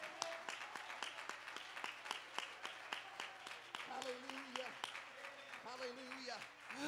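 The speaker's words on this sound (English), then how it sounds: "Clap your hands and give him praise right now." Congregation at a Sunday morning church service clapping hands in a steady, quick rhythm, with voices calling out over the clapping throughout.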